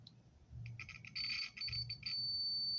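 Multimeter continuity tester beeping while probing a fuse: a few short high-pitched beeps settle into a steady sustained tone, close and clear with low background hum.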